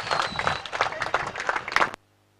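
Crowd applause at a cricket trophy prize ceremony, a dense burst of many hands clapping for about two seconds that cuts off abruptly into silence.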